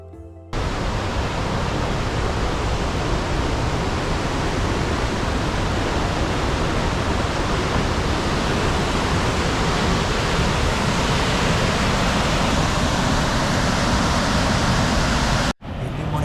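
Tahquamenon Lower Falls in Michigan's Upper Peninsula roars as a loud, steady, broadband rush of falling water, continuous and unbroken for about fifteen seconds before cutting off.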